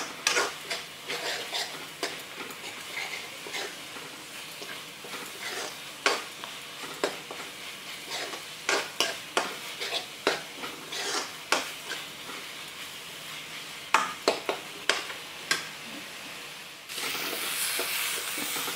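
A soybean mixture with turmeric fries quietly in a pan while a spoon stirs it, giving steady soft sizzling broken by regular scraping clicks, with a brighter burst of sizzle near the end.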